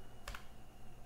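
Two or three isolated key presses on a computer keyboard, quiet and close, with a faint steady hum in between.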